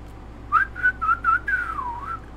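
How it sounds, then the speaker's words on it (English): A person whistles a few short, clear chirping notes followed by one longer sliding note, with no tune, close and moderately loud. "Can I whistle? Yeah, a little bit."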